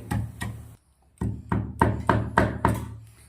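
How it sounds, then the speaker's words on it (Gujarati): Cumin seeds and 4 to 5 dried chillies pounded for tomato rasam, a run of sharp, regular thuds close by with a short pause partway through, no voices. "મસ્ત જીરું વાટી લેવાનું છે."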